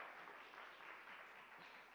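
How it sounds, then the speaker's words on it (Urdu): Studio audience clapping for Pakistan during a Ramazan television transmission, a steady dense patter of hands at low level throughout. "پاکستان کے لیے ایک مرتبہ پھر تالیاں بجائیں."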